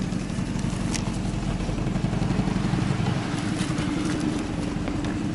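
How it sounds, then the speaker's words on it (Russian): A small boat motor idles and warms up on a narrow upper stretch of a taiga river, a low, steady, moderately quiet rumble with no voices. "Заводим мотор. Пускай греется."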